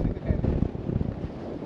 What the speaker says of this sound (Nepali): तर बबाल हावा लागेको छ